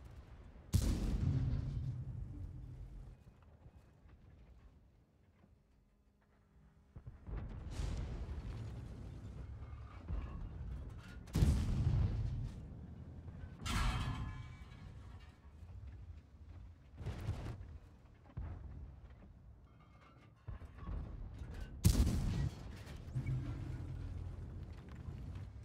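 Artillery shells in World of Tanks boom in a series of heavy, distant-sounding blasts, each a sharp thud with a rumbling tail, spaced irregularly several seconds apart with quieter mechanical background between.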